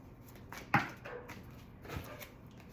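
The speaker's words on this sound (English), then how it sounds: "you hear that dog barking?" A dog barks faintly in the distance, a couple of short, quiet yelps and barks over a low background hum.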